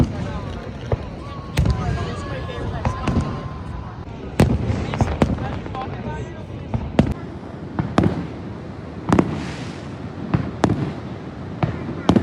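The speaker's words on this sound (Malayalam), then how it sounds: "പടപടപടപടാന്ന് പടക്കമെല്ലാം പൊട്ടി തീർന്നു" Fireworks go off at Niagara Falls in a rapid, irregular series of sharp bangs and pops, some louder and nearer, with crowd voices murmuring underneath.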